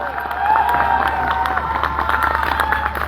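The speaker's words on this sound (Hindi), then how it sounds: "जोरदार तालियां होनी चाहिए सर।" An audience at a business gathering bursts into applause mixed with cheers and shouts, a lively crowd roar that swells early and stays busy throughout, with voices calling out over the clapping.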